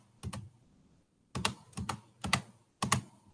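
Keys tapped on a calculator during a trigonometry problem: a quick double press, a pause, then four crisp, close clicks at an even pace, with no talking.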